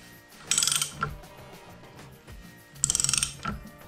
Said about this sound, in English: That is the first bearing removed.